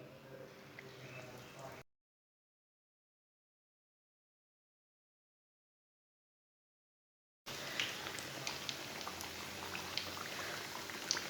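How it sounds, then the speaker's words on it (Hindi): Chicken kachoris sizzle and bubble in hot oil in a pan over a lowered flame, a steady close crackle that drops out to silence for several seconds and then returns. "कचौरियों को 2 मिनट तक एक साइड से पकने देंगे"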